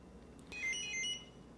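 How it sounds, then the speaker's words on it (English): An Opticon OPN-2002 Bluetooth barcode scanner gives a quick series of high electronic reset beeps, several short tones in rapid succession, fairly faint over quiet room noise. "And there were the multiple beeps."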